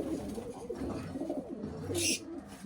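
Soft, low cooing of a pigeon close by inside a coop, with a brief hissy rustle partway through.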